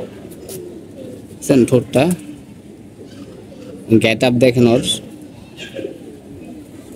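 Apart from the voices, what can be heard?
army pigeons cooing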